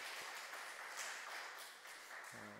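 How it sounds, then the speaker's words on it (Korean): A church congregation at a New York Sunday service applauds the choir, a soft, distant, sustained clatter of many hands that stays even throughout and is heard faintly without talk. "우리 감사와 격려의 박수 한번 해주시면 좋겠습니다."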